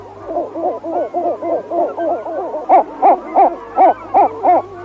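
Gulls calling through a choking display, a close, repetitive series of hollow, hooting pulses in a steady rhythm that grow louder and more emphatic partway through.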